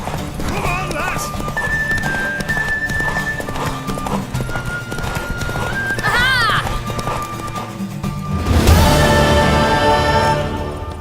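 A mare gallops with rapid rhythmic hoofbeats in a video game, then gives a loud neigh and whinny near the end, with voices and game sounds layered over it.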